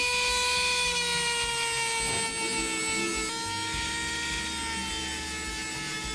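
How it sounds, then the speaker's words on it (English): A high-pitched Dremel rotary tool whines steadily close by while shaping a pistol body, its tone dipping slightly as it bites into material, with gritty grinding underneath. "I'm going to use the Dremel again to shape the body back to the grips"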